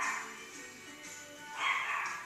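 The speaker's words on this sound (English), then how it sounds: "my puppy has something to say about this. She is barking up a storm." A puppy barks and yips in the background, fairly faint and distant, with a few short bursts over a quiet room.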